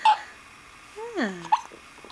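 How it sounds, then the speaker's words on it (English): A man hiccups in a quiet room: a couple of sharp, short voiced hiccups with sliding pitch, close to the mic, and light breathing between them. "I get the hiccups almost every day."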